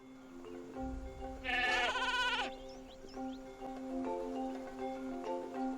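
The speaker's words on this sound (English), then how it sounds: "they're just sheep." Sheep in the video game Spyro's Adventure give one loud, wavering bleat near the start, followed by quieter bleats over a steady tonal game music bed.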